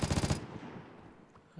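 Gunfire in the Vigor video game: a rapid burst of about five shots at the very start, then a fading tail and quiet background.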